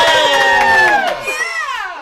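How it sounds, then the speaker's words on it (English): Excited voices cheer like a crowd in a table-read performance, with rising and falling whoops and shouts that sound loud and close, voiced rather than from a real crowd. "The crowd cheers."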